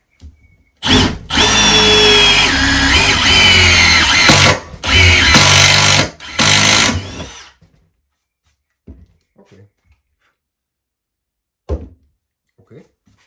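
A Milwaukee Shockwave drill bit bores a small 5 mm hole. The drill sounds in several loud, close bursts with short pauses between them, followed by quiet scattered knocks.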